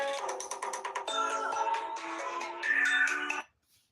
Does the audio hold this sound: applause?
no